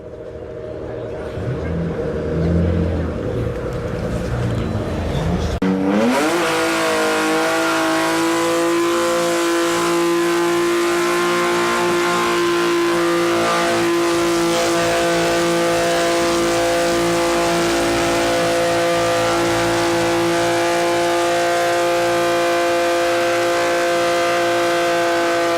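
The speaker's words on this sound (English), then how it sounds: "Oh, that V6 sounds tasty." A V6 car drifting at a car meet screams at sustained high revs after a sharp climb, its engine note held loud and steady for a long stretch with faint tire noise and voices in the background.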